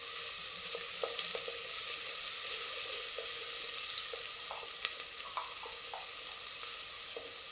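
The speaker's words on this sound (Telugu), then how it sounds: "ఆయిల్ వేడెక్కింది కదా, ఇప్పుడు సన్నగా తరుక్కున్న ఉల్లిపాయ ముక్కలు" Thinly sliced onions frying in hot peanut oil for mutton gongura, with a soft, steady sizzle and a few light clicks of the utensil, fairly quiet throughout.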